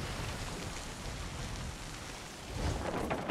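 Stormy weather in the video game Sea of Thieves: a steady broadband rush of heavy rain with a low rumbling thunder bed, swelling louder near the end, with no voices.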